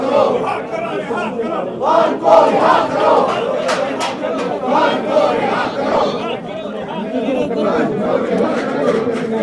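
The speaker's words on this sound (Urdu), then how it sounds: "اپوزیشن کے اراکین نعرے لگا رہے ہیں، عمران خان کی رہائی کے نعرے لگائے جا رہے ہیں" Opposition lawmakers chant slogans at the locked iron gate of parliament, a loud, close crowd of voices shouting together in rhythmic bursts over constant overlapping chatter.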